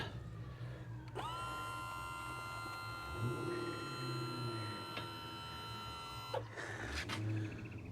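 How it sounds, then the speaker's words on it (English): A Mercury 75hp outboard motor tilting up, driven by a steady electric whine from the trim motor that runs for about five seconds, moderately close, framed by clunks and faint background noise. "I'm going to lift that motor a bit."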